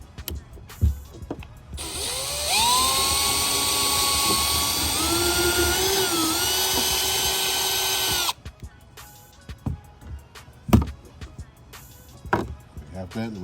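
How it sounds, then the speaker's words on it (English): A power drill bores through carbon fiber during a ram air install on a Sea-Doo RXT/GTX/RXP 300 jet ski, with a single sustained whine of about six seconds, close up, between quiet handling clatter. "we'll go ahead and drill"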